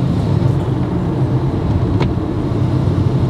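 A classic car drives with its engine rumbling low and steady, rolling along without gear changes in a continuous, even drone heard from close by.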